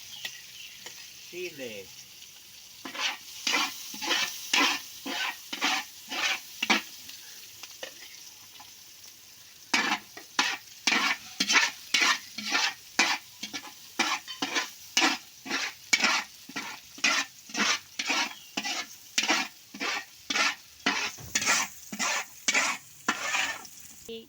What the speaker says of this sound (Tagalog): igigisa lang po natin ang ating bawang